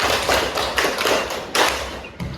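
An Indonesian junior high classroom claps on the teacher's cue: several loud, slightly ragged group claps and thuds, close by, with a final sharp clap near the end.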